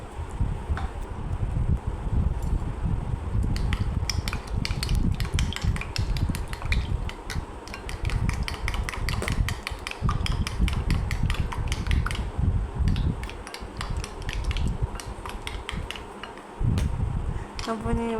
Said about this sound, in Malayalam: എരിക്ക് ആവശ്യമായ കുരുമുളക് എല്ലാം കൂടി ഇട്ട് നന്നായിട്ടൊന്ന് ബീറ്റ് ചെയ്ത് കൊടുക്കാം